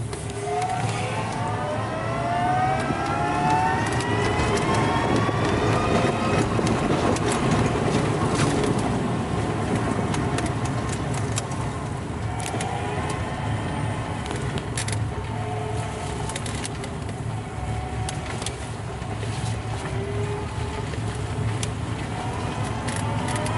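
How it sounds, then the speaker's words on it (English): ZEV T3 electric pickup trike accelerating and climbing a hill, a steady motor whine with rising tones and road and wind noise, loud and close throughout with no talk. "I'll just show you the acceleration on this vehicle, which is quite good, and the hill climbing."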